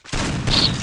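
A burst of video game gunfire, a sharp blast followed by a sustained crackling rattle, loud and close, with no talking.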